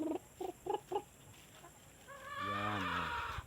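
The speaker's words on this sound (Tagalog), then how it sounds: "dami tayong alagang mga manok." A few short clucks in a quick row, then a louder, drawn-out cackle from a nearby hen over a faint background hum.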